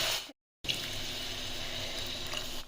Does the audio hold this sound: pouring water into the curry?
yes